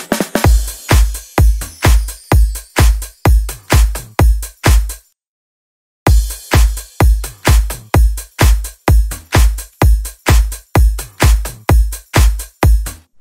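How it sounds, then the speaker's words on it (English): Simple future bounce drum beat programmed in Ableton Live 11: a punchy, evenly spaced kick-and-snare pattern repeating loudly, cutting to silence for about a second before the loop resumes. "Drums are quite simple, they sound like this."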